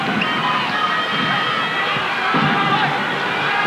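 A large arena crowd at an Ateneo vs La Salle college basketball game keeps up a continuous roar of cheering and chanting, dense and steady throughout, with a commentator's voice faintly mixed in.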